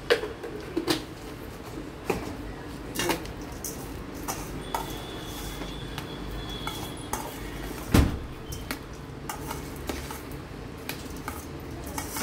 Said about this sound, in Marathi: आपण मिक्स करतो. असा मिक्स करून घ्यायचं.